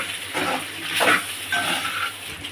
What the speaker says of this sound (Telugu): దీన్ని ఒకసారి కలుపుకుందాం